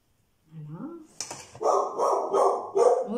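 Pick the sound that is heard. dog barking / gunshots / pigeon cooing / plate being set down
dog barking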